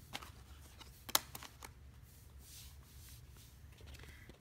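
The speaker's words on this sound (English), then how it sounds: "I'm just going to flip these over." Inkjet PVC cards being flipped over by hand, giving a few quiet, sparse clicks and soft shuffling rustles with one sharper snap near the middle, close and faint with no talk.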